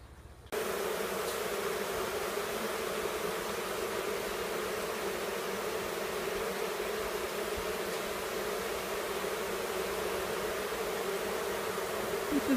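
Steady, dense buzzing of many honeybees at a wild hive in opened-up boards with about ten feet of exposed comb, a close, continuous drone that holds evenly throughout with no talking.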